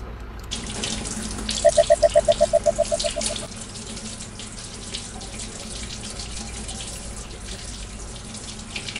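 A tap runs water into a sink in the STALKER video game, a steady rushing flow that continues under a short burst of rapid beeping clicks near the start.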